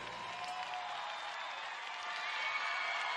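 Crowd applause and cheering drift in from outside after a cycling track podium ceremony, a steady, distant wash of clapping with no break, all at an even, moderate level.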